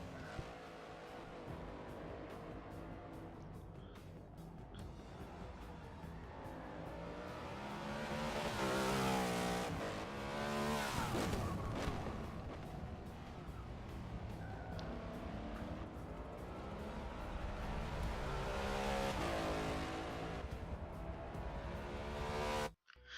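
A race car on race-compound tires in the Forza 6 video game drives a track, its engine revving hard and shifting through gears with swelling and fading whine, loud and continuous, with no talk.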